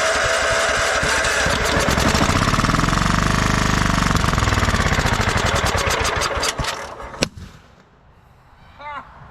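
A 1999 Husqvarna LTH 130 lawn tractor engine, with no gas tank and running on leftover fuel, cold starts. It runs loud and rough with knocking for several seconds, then cuts out with a sharp pop before going quiet.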